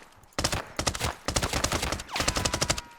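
Automatic gunfire in the Arena Breakout Infinite shooter, fired with weak armor-piercing ammo: three long bursts of rapid shots, loud and close, separated by brief gaps, with no talking.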